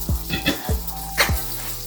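Duck breast searing in a hot pan, with brief bursts of sizzle and scraping that come and go at close range.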